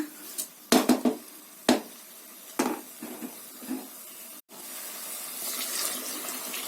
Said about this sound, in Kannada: ಈಗ ಒಂದು ಸೈಡ್ ಕಾಯಿಸಿಟ್ಟಿರೋಂಥ ಬಿಸಿನೀರು ಹಾಕೊಳ್ಳೋಣ